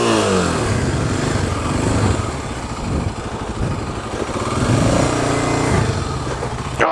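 A damaged motorcycle after a crash, its engine roaring loud and steady with the throttle stuck open, holding a harsh continuous rev close by with slight surges and no pauses.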